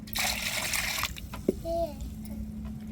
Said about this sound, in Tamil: இப்போ அரைச்ச தேங்காவை சேர்த்துக்கிருவோம் பூண்டு சின்ன வெங்காயமும் சேர்த்து அரைச்சிட்டோம்